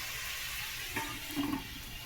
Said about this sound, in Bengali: তবে ঢেকে ঢেকে ভাজলে আস্তে আস্তে ওটা ভালো সিদ্ধ হয়ে যায়